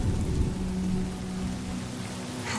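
Steady rain falling during a video game cutscene, an even hiss of drops with a low hum beneath, fairly faint and continuous without speech.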